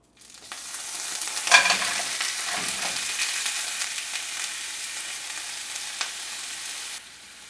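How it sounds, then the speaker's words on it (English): Clams, mussels and large prawns sauté in olive oil with garlic and hot pepper, producing a steady, close sizzle with a few brief stirring scrapes before it cuts off abruptly. "Sauté in olive oil with garlic and hot pepper for about 2 minutes."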